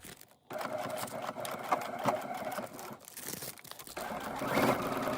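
A sewing machine stitches clear vinyl for a snappy bag, backstitching at the end of a seam: a close, continuous mechanical whir with rapid needle chatter and a brief stop near the start.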